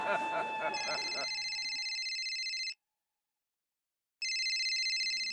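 A phone rings with a bright, buzzy electronic ringtone in two loud bursts separated by a pause of silence, the first beginning as a person is still talking.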